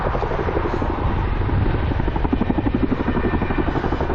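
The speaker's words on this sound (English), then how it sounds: "There you go, there's that Chinook." A Chinook helicopter's heavy rotor thumps rhythmically and steadily overhead above Salisbury Plain, England, with a constant engine drone, loud and close.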